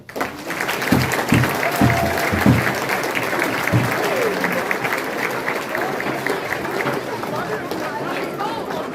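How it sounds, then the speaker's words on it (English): Applause for a sponsor during a youth hockey team presentation, a loud crowd clapping steadily with a few sharp thumps early on and chatter mixed in, sustained to the end. "Let's give a big round of applause to Barnesy."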